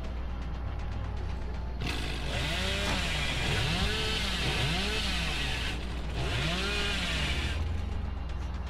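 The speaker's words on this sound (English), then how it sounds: "Oh my god, just hear the chainsaw" A chainsaw in a horror video game revs loudly in repeated rising and falling bursts over a low steady engine drone, cutting in and out in two long stretches.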